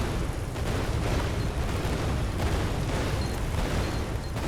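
Explosions fill a video game battle where the whole screen is on fire, a dense, loud and continuous wash of booming blasts and rumbling bursts with no pauses.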